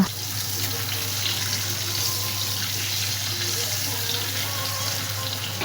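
Boiled eggs fry in oil with turmeric and salt in a pan, giving a steady, close, unbroken sizzle with a low hum underneath.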